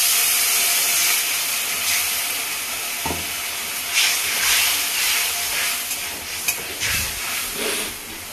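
Water boils in a pan for rasgulla curry, with a constant close hiss and bubbling broken by a few soft knocks and clatters.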